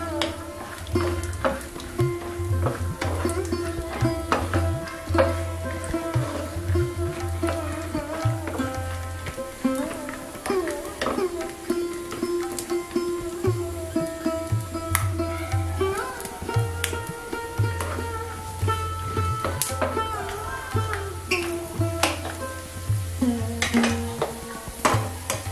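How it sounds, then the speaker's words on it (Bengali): Cashews and chopped almonds frying in ghee over a low flame, a soft sizzle under frequent clinks and scrapes of a spoon against the pan, with a low hum throughout. "এই কাজু বাদাম আর আমন্ড কুচিগুলোকে লো ফ্লেমে হালকা করে একটু ভেজে নেব।"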